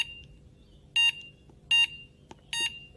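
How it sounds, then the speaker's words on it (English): Three loud, short electronic beeps from an Extech 380193 LCR meter as its buttons are pressed, spaced about every 0.8 seconds in a quiet office with faint background noise. "The beep is quite loud for the button presses"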